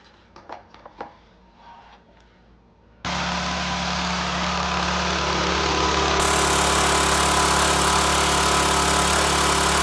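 Stihl RB 400 pressure washer engine starts abruptly after a few clicks and handling noises, then runs loud and steady at close range, alone without talk.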